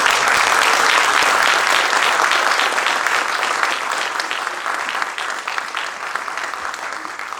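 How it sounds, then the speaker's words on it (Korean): Warm, sustained applause from a large congregation greeting a guest speaker at an evangelistic revival rally in New Jersey, a dense steady roar of clapping that slowly eases in loudness without ever stopping. "이제 나오실 때 우리가 환영하는 마음으로 뜨겁게 박수로 환영하도록 하겠습니다"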